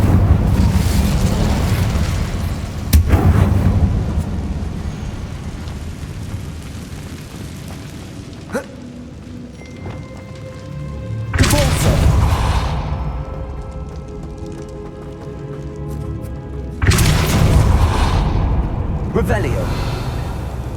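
Incendio fire spell blasts in Hogwarts Legacy, three loud whooshing bursts spaced several seconds apart with rumbling decay between them, mixed with game ambience.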